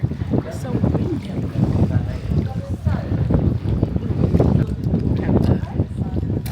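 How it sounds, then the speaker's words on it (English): Strong wind buffets the microphone on a black sand beach in Iceland, a steady low rumbling roar with gusts that swell and fade throughout, close and loud. "It's so windy."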